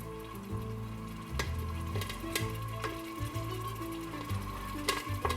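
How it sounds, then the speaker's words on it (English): Steady sizzling and crackling of cinnamon kettle corn in a hot pot, close by, with occasional sharp pops and scraping stirs over a low hum. "You see that it's starting to sizzle?"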